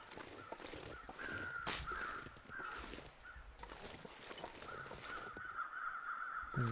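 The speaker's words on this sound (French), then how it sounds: "J'entends les corbeaux." Several crows caw in a snowy wilderness in The Long Dark, with repeated harsh calls spread across the scene, some fairly close and others farther off, over a steady windy background.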